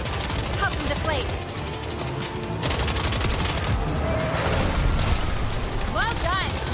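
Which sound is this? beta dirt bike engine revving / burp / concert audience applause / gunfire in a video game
gunfire in a video game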